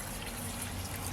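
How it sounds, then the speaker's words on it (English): Water is poured through a funnel into a bottle during home fruit-wine making, giving a steady, close hiss-like gurgle that runs unbroken for about a second. "we're going to pour it in the bottle"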